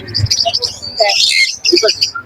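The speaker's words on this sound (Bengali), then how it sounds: "পাখিটা দেখো কতটা অ্যাক্টিভ, পুরো খাতাটা ঘুরে বেড়াচ্ছে পাখিটা" Small pet birds, including red factor and yellow dominant birds, chirp and twitter rapidly up close at the Naihati bird market, a busy overlapping chatter with short bursts and brief pauses.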